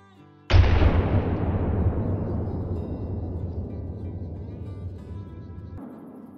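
A single .470 rifle shot in Call of the Wild, a sharp loud crack that rolls into a long, slowly fading echo over several seconds.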